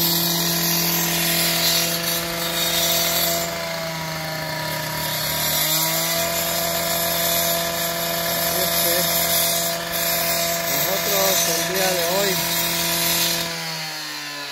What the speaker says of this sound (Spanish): Y pues allá Wicho está cortando una porque le hace falta todavía